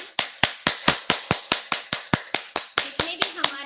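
Rapid forward and backward hand clapping during a yoga session, around five crisp, close claps per second in a steady run, with a voice faintly underneath.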